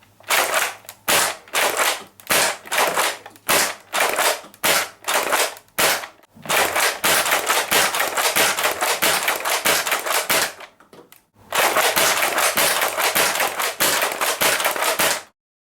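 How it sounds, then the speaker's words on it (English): A modified Nerf Longshot toy blaster fires rapidly, sharp loud pops in a quick irregular string, then near-continuous bursts with a brief pause before a final volley, close by and with no talking. "shooting much better than unmodified Nerf guns, and especially much better than the stock Longshot"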